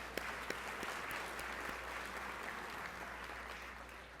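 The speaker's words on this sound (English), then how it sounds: "let's do an applause for that" An audience at a Miami real estate market address applauds, with continuous, even clapping that stays fairly faint and steady over a low hum throughout.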